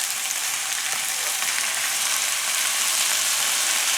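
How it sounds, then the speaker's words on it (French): Onions, bell pepper and tomatoes sauté in a pan for a stuffed bread filling, giving a steady, close, even sizzle and crackle with no voices. "après avoir fait revenir les oignons, je vais rajouter le poivron. Je rajoute aussi les tomates"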